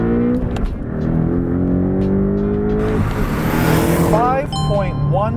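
A 2023 Porsche Boxster Style Edition with a 2-liter turbocharged four-cylinder on winter tires launches hard with stability control off, its engine droning loud and close as revs climb, then a gear shift and renewed pull, with a voice talking over it.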